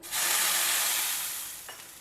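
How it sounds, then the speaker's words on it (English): A steady broadband hiss of fermented batter sizzling in a hot pan, loud from the start and slowly easing off, with no talking. "Reduce the heat once you know that it is sizzling hot."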